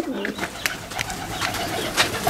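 Pigeons cooing close by, a series of soft throaty coos and rustles repeating over a couple of seconds at moderate loudness.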